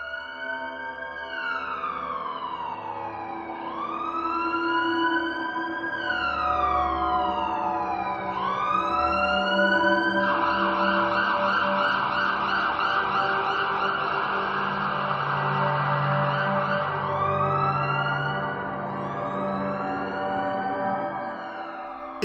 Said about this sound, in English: your only alternative will be to go in that big ambulance with the Trump 2020 campaign logo